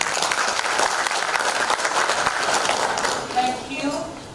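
An audience at a live report event on teen pregnancies in Kenya breaks into sustained applause, dense clapping that tapers off after three seconds as voices begin to come through.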